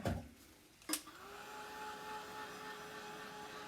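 A hair dryer drying ink on a chalk transfer: a couple of sharp clicks and a bump as it starts, then a steady, fairly loud whirring blow with a faint whine, running alone.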